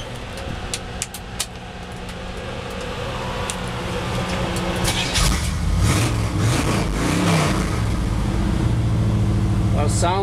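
A small chrome-grilled pickup truck engine runs steadily, a low rumble that swells as it revs partway through, with a few faint clicks early on and nearby background noise throughout.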